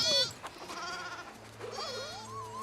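Young milk lambs bleat in several wavering cries, near and clear, one at the start and another drawn-out call near the end, with a steady low hum underneath.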